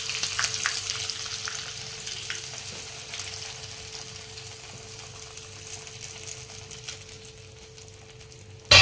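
Hot tempering of sesame seeds and cut chili is poured over farali dhokla, setting off a steady crackling sizzle that persists throughout and ends with a sharp loud burst.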